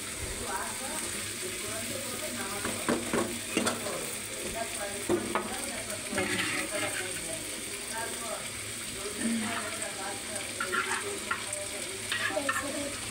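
Fried potatoes being stirred into a pabda fish curry in a pan, with steady sizzling and repeated scraping and clinking of a spoon against the pan, close and moderately loud.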